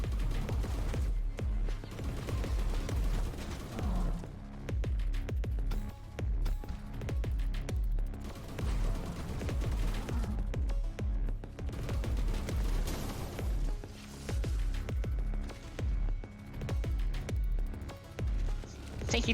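Shotgun-like weapon fire in a video game: heavy, booming shots repeat at an uneven rhythm over a long stretch, loud and dense with little pause between blasts.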